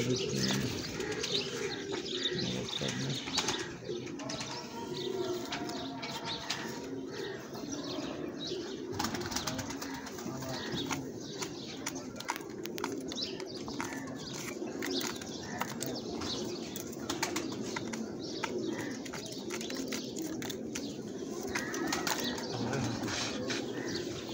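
Champion pigeons coo steadily in a low, rolling chorus, with bursts of wing flapping and scattered chirps throughout.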